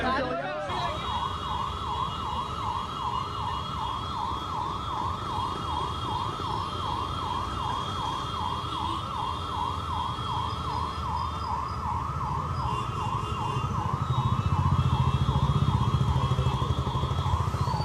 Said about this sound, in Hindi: शायद आपको उस एम्बुलेंस के सायरन की आवाज़ भी आ रही होगी